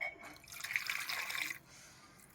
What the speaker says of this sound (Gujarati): પછી આમાં આપણે પાણી એડ કરી દેવું